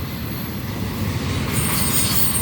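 A Union Pacific freight train hauling Kansas City Southern cars rolls past close by, a loud steady rumble of wheels on rail with a brightening hiss toward the end.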